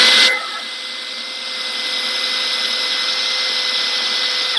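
A Makita XGT GFD01 cordless hammer drill drives a large bit into knotty wood, its motor starting with a short burst and then settling into a steady, loud, continuous whine with no talking.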